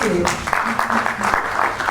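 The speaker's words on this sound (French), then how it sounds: "il faut applaudir" Applause breaks out from the audience at a cinema club master class, a short burst of clapping heard under a speaking voice.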